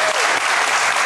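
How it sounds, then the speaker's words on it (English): A studio audience claps on a sports talk show, a brief, loud, dense burst of applause with no voices over it. "y'all clapping because it's a great statement"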